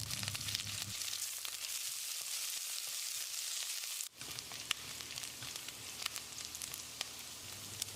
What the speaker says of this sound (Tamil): வெங்காயத்தை லேசாக செவக்கிற அளவுக்கு வதக்கிடலாம்